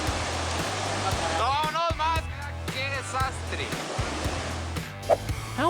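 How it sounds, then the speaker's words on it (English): Rushing floodwater as a landslide slams into a river, a dense, roaring wash of turbulent water, with a voice talking over it. "This, ladies and gentlemen, is what happens when a landslide collides with a river."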